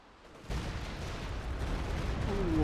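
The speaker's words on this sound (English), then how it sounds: "Rocket barrage coming in from Happycat." Rocket barrage in the wartime strategy game Company of Heroes 2: a sudden burst of dense, rumbling explosions that stays loud and swells, with a rising whistle near the end.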